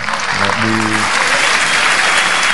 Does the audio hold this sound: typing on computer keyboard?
no